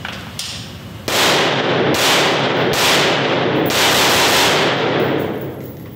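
A 16-inch 5.56 rifle fires through a competing brand's compensator muzzle brake, a loud sharp report with a long, spreading outdoor echo, followed by several fainter repeated cracks.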